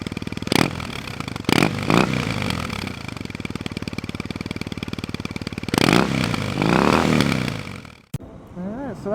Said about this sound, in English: there's just something about the carb and the way this thing sounds at idle